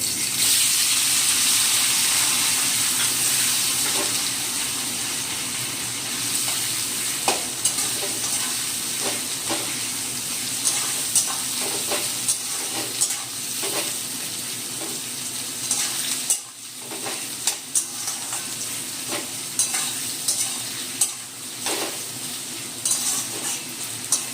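Chopped onions frying in a pan with whole cumin seeds and whole garam masala, a steady dense sizzle with scattered scraping stir clicks throughout, close and fairly loud, no voices.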